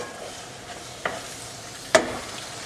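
Onions browned to golden, frying over high heat in a pan, give a low steady sizzle with two sharp scrapes of a spoon stirring them, close by and without talk.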